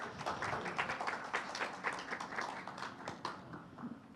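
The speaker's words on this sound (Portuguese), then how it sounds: "A gente pode bater palmas para o grupo" A group at a lecture on planetary citizenship and sustainability applauds, with dense, steady clapping of moderate loudness that carries through the whole stretch without a voice over it.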